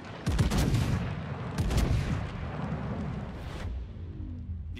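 Heavy naval guns boom repeatedly in World of Warships, a dense run of loud overlapping blasts and rumbling reports that roll on without pause.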